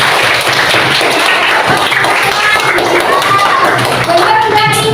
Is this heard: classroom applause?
yes